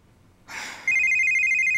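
A short rustle, then a phone starts ringing with a steady electronic trill, loud and close, continuing to the end.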